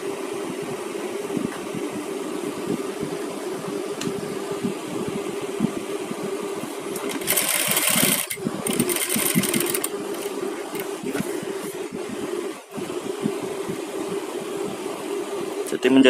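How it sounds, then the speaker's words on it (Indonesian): A sewing machine stitches the edge of a garment in steady, continuous mechanical whirring with a low motor hum, running almost unbroken for the whole stretch and briefly rising in intensity midway. "Benar-benar harus jahit bagian tepi ya."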